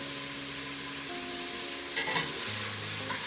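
Bacon for a Zuppa Toscana soup fries in a pan over medium heat, giving a steady close sizzle with faint tonal hum underneath and a brief burst of stirring or spatter near the end.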